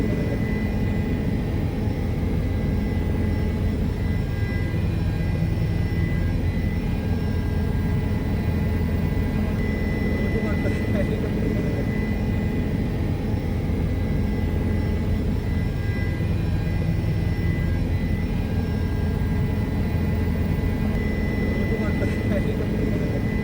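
A helicopter flies over mountains toward Kedarnath, its engine and rotor making a loud, steady, unbroken drone heard from inside the cabin for the whole stretch.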